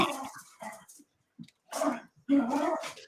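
A dog vocalizing nearby in short bursts, whiny growling barks and whimpers separated by brief silences, loud and close with no talk over it.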